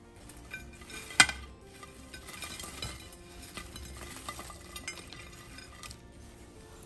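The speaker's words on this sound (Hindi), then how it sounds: "आप ऑब्वियसली सुन सकते हैं कि एकदम करारा कुरकुरा सा ये चिकन बनकर तैयार है।" Crispy fried chicken tossed in a pan, with faint clinks and scrapes of metal on cookware, one sharper clank early on, quiet and without talk.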